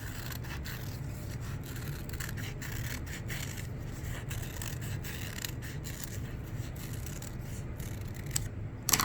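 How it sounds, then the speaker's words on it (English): Scissors snipping out a large paper oval, a quiet run of repeated short cuts close by over a low steady background hum, with no speech. "And then cut that big oval out."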